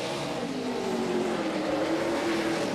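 NASCAR Sprint Cup stock car pulling back out onto the track at New Hampshire Motor Speedway in 2011, a steady droning engine roar at a distance with crowd and track ambience, no voices.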